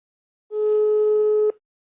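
A single outgoing phone call tone sounds, one clean steady beep about a second long, loud and alone against silence.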